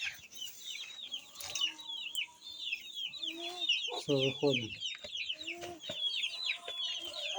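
Chickens cluck and peep in a busy, near chorus of short, repeated calls, with a louder clucking burst midway, while a person speaks briefly.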